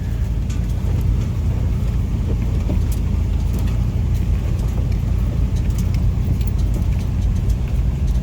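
A heavy Ford Econoline or Express van rumbles along a trail at night with a deep, continuous engine drone and scattered knocks and rattles over rough ground, using hill descent control and brakes.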